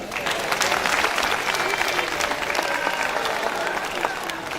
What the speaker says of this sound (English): Another round of applause for the Vice Chancellor of the University Ile-Ife